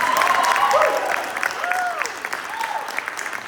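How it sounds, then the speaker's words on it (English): Applause and cheering from an audience at a high school literary arts reading, a steady dense patter with a few shouted whoops rising over it. "let's all have a big round of applause for being here."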